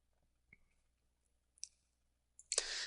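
A computer mouse gives a few quiet, sparse clicks in a near-silent room, followed by a louder, sharper click burst at the end.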